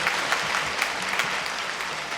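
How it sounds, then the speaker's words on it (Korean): The congregation at a Catholic church event in Gimpo applauds, producing continuous, moderately loud clapping with no voices over it. "박수 한번 주십시오."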